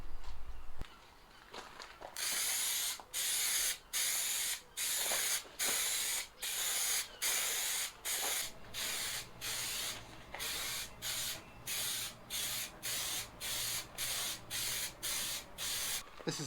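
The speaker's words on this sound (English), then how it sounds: "I've just got this trim fix adhesive, and I spray both the surface and the lining with this" Repeated short bursts of trim adhesive sprayed from an aerosol can onto a car sunroof lining, hissing close by in a steady rhythm of roughly a dozen quick puffs separated by brief pauses.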